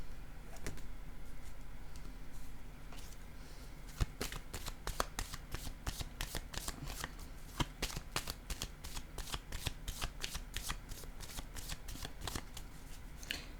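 A deck of cards is shuffled close by before another card is drawn, with quick riffling flicks in a rapid, fairly steady run lasting over ten seconds.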